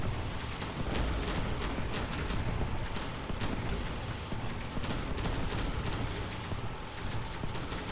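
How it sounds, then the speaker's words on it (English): Repeated mortar bombardment in a video game, a dense run of booming blasts and rumbling impacts with no talk. "I can do long range bombardment from these things. Using the 3 mortars that I have"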